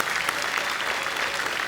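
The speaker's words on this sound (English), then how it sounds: "Would you please give them all just one more big round of applause." An audience at the 2013 Australian Surfing Awards applauds steadily, a dense, even wash of clapping from a large crowd with no pauses.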